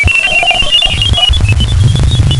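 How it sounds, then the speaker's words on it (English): Computer-like beeping from a Galileo spacecraft recording of space signals: rapid high electronic tones stepping up and down over a dense low rumble, loud and continuous. "Then comes some stranger computer beeping like sounds."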